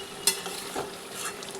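Chicken sautéed in a pan for biryani, the meat being stirred with a sharp scrape at the start and another midway over a steady sizzle, close up and with no voices.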